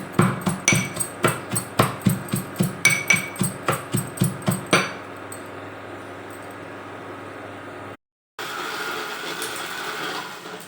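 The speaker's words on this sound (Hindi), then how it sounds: "तो मेरा पूरा लहसुन कूट गया है" Rapid rhythmic pounding of garlic with a pestle in a mortar, a dozen or so steady thumps, then a pause into low background noise and a brief hiss.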